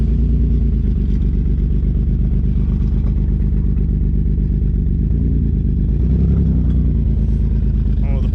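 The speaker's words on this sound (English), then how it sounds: "Oh, the poor downpipe's dragging" A twin-turbo Ford Taurus SHO rolls slowly with its downpipe dragging, giving a continuous loud low engine rumble with scraping clatter throughout.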